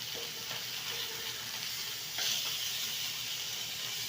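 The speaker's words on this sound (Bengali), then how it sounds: "এটার মধ্যে মাছ ভেজে নেব। একে একে সব মাছ দিয়ে দিলাম।" Pieces of foli fish fry in oil in a kadai, giving a steady, close sizzle and hiss that swells briefly midway before settling back to a continuous crackle.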